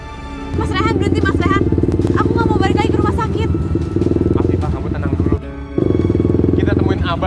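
A motorcycle engine runs steadily close by with a low throbbing drone, briefly dropping out near the end before resuming; voices speak over it throughout.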